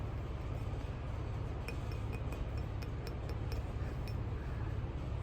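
Glass items clink lightly and intermittently, a series of small bright taps over a steady low background rumble, fairly close but quiet.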